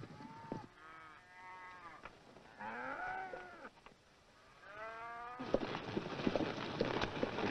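A herd of cattle moos repeatedly on a western film's soundtrack, several long drawn-out calls overlapping in the first half before a louder rumble of hooves and movement takes over.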